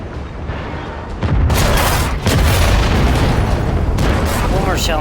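Tank destroyer cannon fire in World of Tanks, a loud heavy boom that jumps over a constant dense rumble of game noise and keeps roaring, with gunfire-like bursts following.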